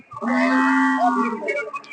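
Cattle at a busy Qurbani livestock market, one loud, close, drawn-out moo lasting over a second, then softer lowing sounds trailing off.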